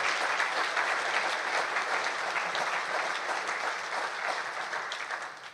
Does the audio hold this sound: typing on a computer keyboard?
no